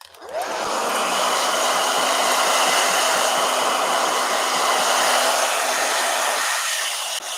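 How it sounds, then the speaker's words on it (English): A handheld blow dryer runs steadily and close for several seconds, blowing over a watercolor sketchbook page with a loud continuous whoosh, then clicks off. "Blow dryer."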